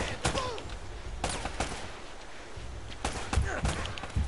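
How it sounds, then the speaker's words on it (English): Gunfire in the video game Uncharted, with scattered sharp shots spread through the clip, some in quick pairs, loud and close over a low game background. "Oh, this guy's shooting."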